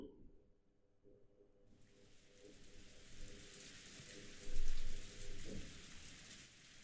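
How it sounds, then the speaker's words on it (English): Steady rain falls as an ambient sound effect in the Umineko visual novel, switching on as a loud, even hiss after a quiet start, with faint low murmurs and a brief louder patch midway. "All that could be heard was the sound of the rain"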